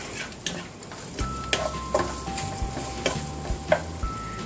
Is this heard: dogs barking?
no